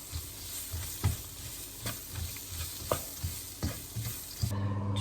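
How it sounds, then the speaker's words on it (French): Sliced leeks sautéing over medium heat in a wok for a coconut shrimp curry: a steady soft sizzle with repeated scraping stirs every second or so, no talking. "maintenant on va mettre nos poireaux que j'ai préalablement émincés. On va les faire revenir."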